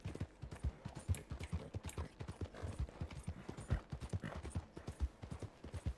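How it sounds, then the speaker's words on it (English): Horse hooves clip-clop in Red Dead Redemption 2, a steady run of fairly faint, evenly spaced hoofbeats at a walking or trotting pace, alone without talk. "That's a nice horse."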